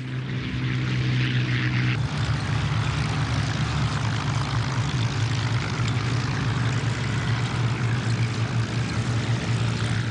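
A vintage propeller airplane with a fabric-covered fuselage drones loudly and steadily overhead, the engine's rough roar holding constant without any talk.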